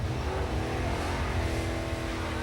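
A car does a tyre-smoking burnout on the Summernats donut pad, the engine roaring at sustained high revs with a dense, continuous rumble and tyre noise, loud and close throughout.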